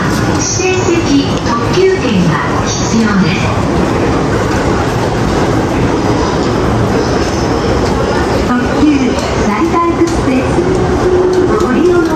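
Train carriages standing at a Tokyo station platform, with a constant loud rumble of rail machinery and station noise, brief tonal whines rising and falling, and people talking throughout.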